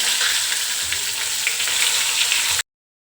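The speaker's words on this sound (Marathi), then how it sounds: "फोडणीचा असा आवाज आला ना की फोडणी छान बसली म्हणायचं" Spiced oil tempering for bitter gourd crackles in a hot pan, a dense, even, close sizzle that holds steady for a few seconds, then cuts off.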